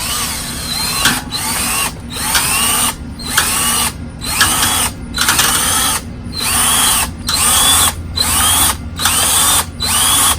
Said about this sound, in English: It attaches to any cordless drill, and all we have to do is get down in here